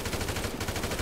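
Rapid automatic gunfire from the PC video game GTA Online rattles in dense, continuous bursts during a multiplayer street fight, loud and steady throughout with no voices.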